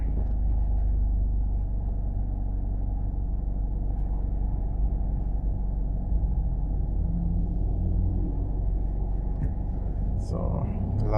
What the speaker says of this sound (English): So a lot of traffic.